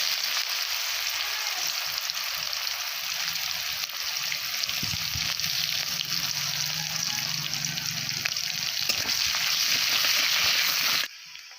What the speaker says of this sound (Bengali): দিয়ে দেবো এখানে আমি কুচিয়ে রাখা পেঁয়াজ।